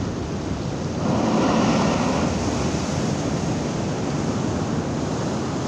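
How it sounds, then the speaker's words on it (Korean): Ocean waves break on a sunny shore during a sea fishing outing, a continuous rushing roar of surf that swells slightly after a second and then holds steady, close and fairly loud, with no talking. "그냥 파도가 이쁘다라고 막 느껴져."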